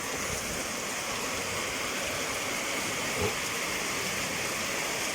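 Steady, dense hiss of heavy rain pouring down during the rainy season, constant and broadband with no pauses or voices.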